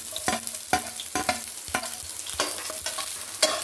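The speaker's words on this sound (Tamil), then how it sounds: "அடுப்பை ஆன் பண்ணி பேனை வச்சு ஆயில் ஹீட் ஆனதுக்கப்புறம் சாப்டு ஆனியனை போடணும்" Chopped onion frying in hot oil in a pan for veg cutlets makes a soft sizzle under a series of sharp spatula scrapes and knocks against the pan, spaced irregularly and close by.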